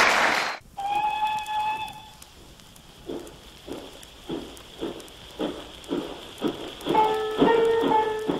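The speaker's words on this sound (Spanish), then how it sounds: "cuando se escuchó por primera vez el silbato del tren" A train whistle in Bello, Colombia sounds two long, steady multi-tone blasts, one at the start and one at the end. Between them comes a rhythmic series of chuffing bursts, moderately loud with no talk.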